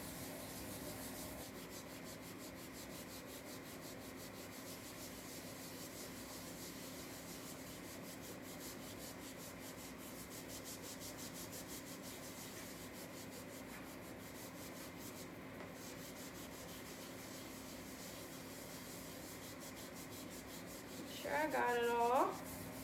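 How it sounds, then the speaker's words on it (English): An EnviroCloth wiping cleaning paste off a hardwood floor, a continuous close rubbing swish that holds steady, ending with a short spoken remark. "you take your hardwood floor and you just wipe it right off"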